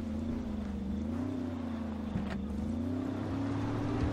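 A car engine hums steadily in the video game Ghost Recon Wildlands while driving, a low continuous drone with slight pitch shifts and no talking.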